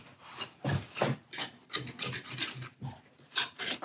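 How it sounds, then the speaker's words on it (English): Stiff brush and scraper rasping grime, paint and underseal off the rear underbody of a 1967 Jaguar E-Type, in a steady run of close, loud, repeated scrubbing strokes with no talk. "I'll brush and scrape the worst off before setting to with some degreaser."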